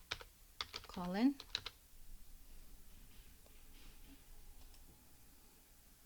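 Keystrokes on a computer keyboard as a provider name is entered into a hospital consult order, a few soft clicks scattered through faint room noise, with a brief spoken word near the start.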